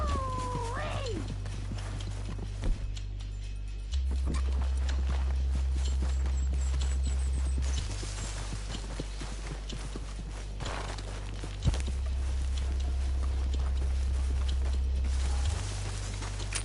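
Horse hooves clip-clop steadily beneath a constant low engine-like hum in Red Dead Redemption 2, a rhythmic walking gait heard over game ambience with a brief whine early on.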